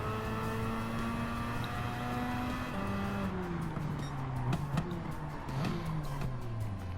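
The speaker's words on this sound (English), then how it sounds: "the rotaries do sound amazing" Mazda RX-7 with a rotary engine racing in Gran Turismo 7, its engine note steady and loud throughout, pitch rising and dropping with shifts and hard braking near the end, with faint tire squeal.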